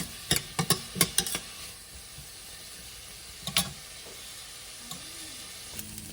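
Chopped onions fry in a pan while being stirred. Several sharp scraping strokes cluster at the start, then a soft sizzle carries on, broken by a few more isolated stirs further on.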